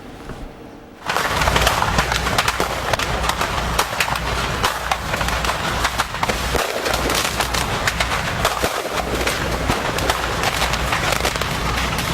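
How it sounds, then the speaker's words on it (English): Distant fireworks pop and crackle continuously outdoors in blowing snow, a dense, steady barrage of small bursts starting abruptly after a brief quiet moment. "You can hear those fireworks popping."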